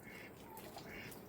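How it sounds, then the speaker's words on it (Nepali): A duck on a rural farm in West Sikkim gives faint, distant quacks under a low outdoor background. "हाँस रहेछ ऊ"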